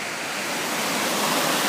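Floodwater of the White River rushes high after a heavy atmospheric-river storm, a steady broadband roar with no talk that swells slightly louder toward the end.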